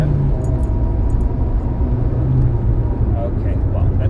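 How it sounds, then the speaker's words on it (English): A 1997 Renault Twingo 1.2 is driven at full throttle, giving a steady, droning engine rumble heard from inside the car, with a person talking over it. "We got a bit of a stretch here, so here we go, full throttle, and it goes wide a bit."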